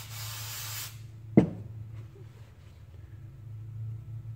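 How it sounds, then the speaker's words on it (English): An aerosol can sprays a burst of solvent, weaker than brake cleaner, onto the parts and gaskets of a Partner K950 Active cutoff saw, hissing loudly for about a second, then stopping, with a sharp knock and a low steady hum after it. "Using this kind of spray"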